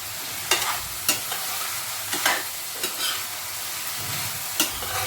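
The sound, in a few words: stirring and frying cauliflower, potato, peas and tomato in pan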